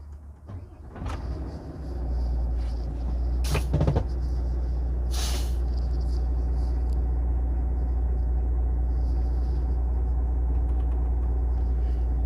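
A Volvo automatic truck's diesel engine cranks and catches, then settles into a deep, steady idle rumble heard from the cab, with a couple of brief clicks and a short hiss early on and no talking.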